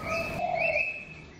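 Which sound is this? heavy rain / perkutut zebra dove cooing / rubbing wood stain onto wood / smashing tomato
perkutut zebra dove cooing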